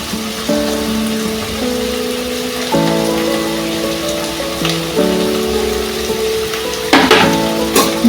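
A paste of ground cumin and ginger sizzles steadily as it fries in a pan for a silver carp curry, with a constant crackle running under a stepped, tonal melody throughout.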